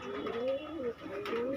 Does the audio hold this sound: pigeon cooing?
yes